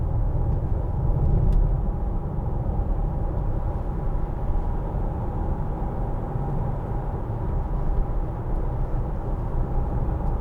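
Steady low road rumble and engine drone from a 2012 Land Rover Freelander 2 TD4 diesel cruising on a rough motorway surface, a continuous even hum with no talk.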